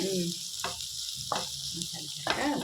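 Masala sizzling and frying in a pan for chundakkai thoran, a close steady hiss with brief stirring scrapes and faint talk in the background.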